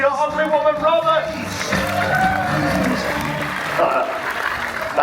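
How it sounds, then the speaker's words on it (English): Cruise ship audience applauding at a magician and escape artist's stage show, clapping and some cheering mixed with loud talk and voices throughout. "big round of applause for your ugly woman, Robert."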